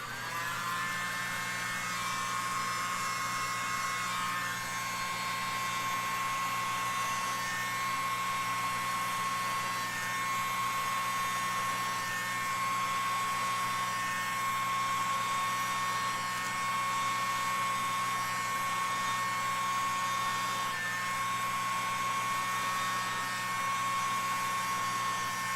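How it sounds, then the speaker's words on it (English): A small electric blower aimed at poured fluid art paint with black cell activator, a steady, even whine that runs unbroken for the whole stretch. "Let's blow it out. I'm gonna use my little blower."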